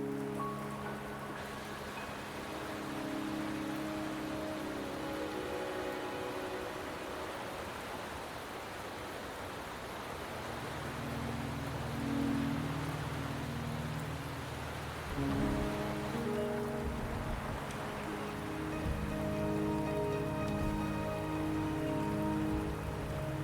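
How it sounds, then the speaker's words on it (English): Steady rain falls throughout in a video game, a dense wash of patter with low droning tones underneath, continuous and fairly loud with no voices. "The rain is subsiding, and the sky will soon clear."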